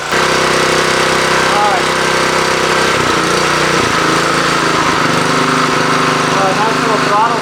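A Honda engine runs on a California Trimmer reel mower, a loud, close, steady droning hum that shifts slightly in pitch midway, while someone speaks briefly over it.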